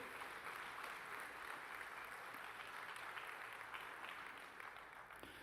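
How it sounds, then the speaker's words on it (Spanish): A church congregation clapping during a service, a sustained, even patter of many hands heard faintly and at a distance, tapering a little near the end. "un aplauso al Señor"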